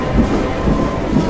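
A train rolls through a railway station with a steady, loud rumble of wheels and cars, close by and unbroken, with no talk over it.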